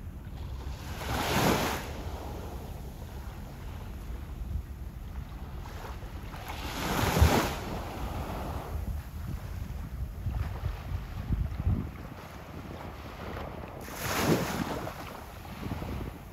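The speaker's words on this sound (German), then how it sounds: "Ja, herrlich, das plätschernde Wasser, sehr, sehr sauber." Sea water washes and splashes against the shore on a Mallorca beach near Palmanova, heard as repeated soft surges every few seconds under steady wind rumble on the microphone.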